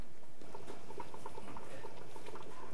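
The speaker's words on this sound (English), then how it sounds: "I'll put on a pot of water to boil" Pot of water boils for pho noodles, a soft close bubbling and popping patter, fairly faint and continuous.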